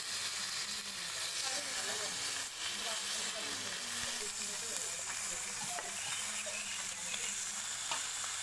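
Fish sizzling steadily in a generous pour of hot oil in a village kitchen, a dense continuous crackle and hiss heard close up with no pauses.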